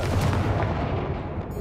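The Confringo blasting spell goes off in the Hogwarts Legacy video game as one loud, close explosive boom whose dense rumble fades over a second and a half.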